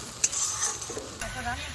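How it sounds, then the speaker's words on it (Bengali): Potatoes being sautéed with spice paste in a pan while cooking Bengali dhokar dalna: a brief, close run of stirring and scraping over a soft, steady sizzle. "এবার আমি মশলার সাথে আলুটা কষিয়ে নেব।"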